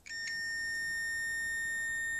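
A multimeter's continuity tester on a motorcycle wiring job gives a steady, clear electronic tone that starts abruptly and holds for about two seconds, close and alone without talk.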